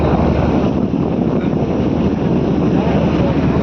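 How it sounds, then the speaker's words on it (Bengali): A trawler boat moves along a river in the Sundarbans, heard as a loud, steady broadband rush of engine and water mixed with strong wind buffeting the microphone. "একটি ট্রলার যাচ্ছে ট্রলার"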